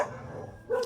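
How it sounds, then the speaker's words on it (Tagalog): A dog gives a brief bark, one short yip at a moderate distance rising near the end of a quiet moment. "may aso guys"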